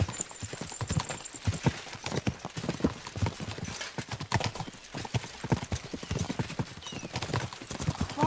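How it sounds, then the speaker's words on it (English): Horse hooves clip-clop in a steady, brisk rhythm on a road in the medieval game Kingdom Come Deliverance 2, loud and close, with occasional faint voices in the background. "We should spur the horses on."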